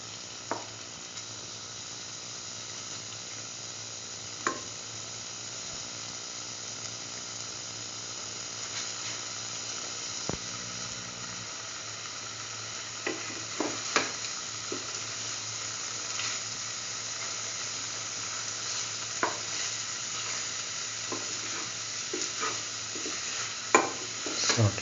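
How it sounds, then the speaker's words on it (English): Egg being scrambled into a frying potato stir fry, with a steady broadband sizzle running throughout, close by, with occasional sharp clicks and scrapes of a utensil stirring against the pan. "Now scramble the egg with the rest of the mixture."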